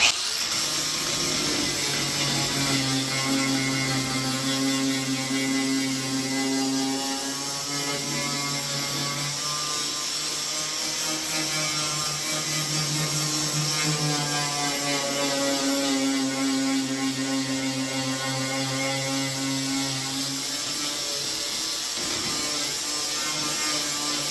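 Sanding pad on a power tool grinding paint off car body metal, a steady continuous whirring grind with a droning hum that runs unbroken and fairly loud throughout.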